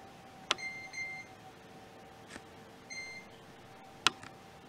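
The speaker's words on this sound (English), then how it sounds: "And we'll set our timer." Kitchen timer in a camp kitchen being set, giving a few short electronic beeps spaced across a quiet moment, with brief clicks between them.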